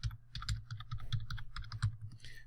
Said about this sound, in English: I can't actually see while I'm typing